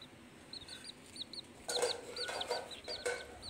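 Two bantam chicks peep in quick, high, repeated chirps at close range, with a few louder bursts of cheeping partway through.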